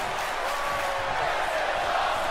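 A dense arena crowd roars and cheers continuously during a wrestling match in the video game WWE 2K20, a loud steady wash of noise with no pauses.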